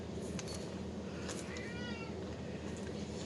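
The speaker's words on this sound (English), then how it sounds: "Freaking cat is driving me nuts." A cat meows faintly under a steady broadband hum inside the Stanley Hotel, with a few soft, brief calls and one longer, drawn-out meow near the middle.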